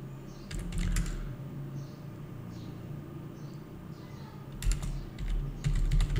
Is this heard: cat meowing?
no